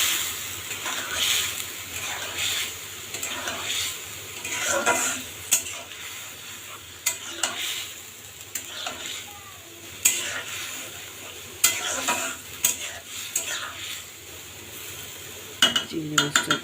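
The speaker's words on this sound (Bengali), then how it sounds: "এখন আমি এর ভিতরে চিংড়ি মাছটা দিয়ে দেবো" Shrimp and onions fry in a pan for a dish of shrimp dopiaza, a steady close sizzle broken by repeated stirring scrapes and clinks of a utensil against the metal, with no talking.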